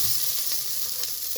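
Onions frying in a pan, a dense continuous sizzle heard up close, with a faint stir or two and no talking.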